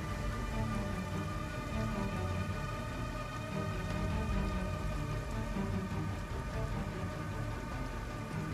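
Steady rain falling in the Project Zomboid video game, a continuous even hiss of raindrops with no voices, moderately quiet throughout.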